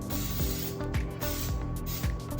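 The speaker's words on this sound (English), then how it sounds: "We got some pan cooking spray, perfect release" Nonstick pan cooking spray hissing out of a shaken aerosol can in a home kitchen, a steady broad spray close to the mic with a few brief pulses.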